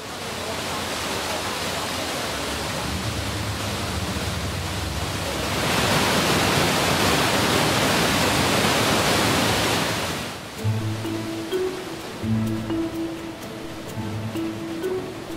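Water rushes through Ulefoss lock on the Telemark Canal in Norway, where three chambers drop nearly 11 metres. A steady, broad roar swells louder midway, then eases as voices begin talking over it.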